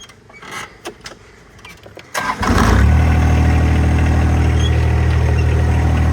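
A John Deere 1025R compact tractor engine cranks briefly after some quiet handling noises, catches with a surge and settles into a steady, loud, close diesel idle.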